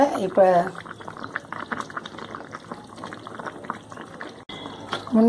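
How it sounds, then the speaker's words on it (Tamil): Thick lentil ball curry (paruppu urundai kuzhambu) bubbles steadily in a pot, a close, continuous burbling simmer with a voice talking over it at the start and end. "பாருங்கள், குழம்பு நல்லா கொதிச்சிருச்சு"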